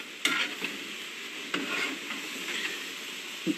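A home-cooked stir fry sizzles in a pan, a steady frying hiss broken by a few sharp scrapes and clacks as it is stirred.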